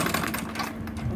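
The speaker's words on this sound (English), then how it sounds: "so I'll stitch it up like this" A sewing machine stitches a fabric bag with a fast, steady mechanical whir and rapid needle chatter, close and continuous for a brief moment.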